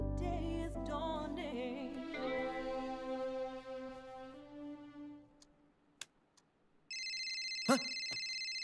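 A telephone rings with a steady electronic tone near the end, starting after a fading musical passage and a brief quiet gap, with no talking.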